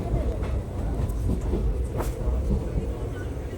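Inside a moving train on a rainy day around Kochi, Kerala, a continuous close rumble and rattle of the carriage runs throughout, with faint voices mixed in.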